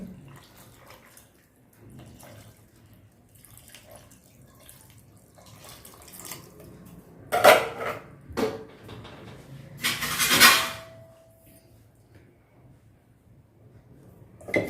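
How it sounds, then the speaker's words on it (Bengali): Water is poured into a cooking pot for Odia dalma, a lentil dish, in two short splashing bursts near the middle against a quiet kitchen background. "এবার দিয়ে দিচ্ছি জল"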